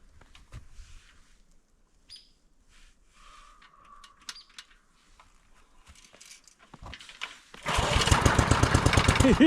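A homemade gas-engine sawmill sputters to life and settles into a loud, steady, throbbing idle, following scattered quiet clatter, faint outdoor birdsong and a brief whistle.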